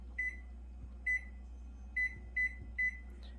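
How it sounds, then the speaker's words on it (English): A kitchen timer beeps five times in short, clear electronic tones at uneven intervals, fairly quiet over a steady low hum in a home kitchen while a peach cobbler rests in the oven. "So kitchen timer again."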